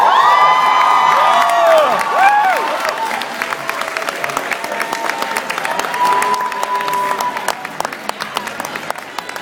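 A convention crowd at a cosplay craftsmanship competition claps and cheers for costumed contestants. A spoken announcement sits on top at first, then the applause continues as scattered, fading claps.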